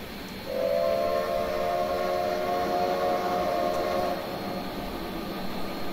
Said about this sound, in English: But it's a really nice sounding whistle